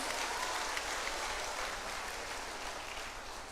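An audience at a centenary celebration applauds after a dance performance, a dense wash of clapping that holds steady and fades slightly over a few seconds. It sounds moderately distant.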